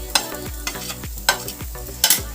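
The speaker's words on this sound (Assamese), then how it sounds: "এতিয়া মই গোটেইখিনি অলপ সময়ৰ বাবে ভাজি ল'ম।" Spices and peas fry in a pan with red chili, garam masala and whole black pepper for matar paratha, with a spatula scraping in a rhythmic series of about five strokes over a close, steady sizzle.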